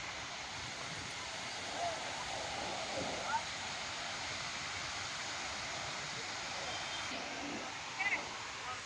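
Bharachukki waterfall gives a steady, distant roar of rushing water, broad and unbroken throughout, with faint small shifts in the wash of sound.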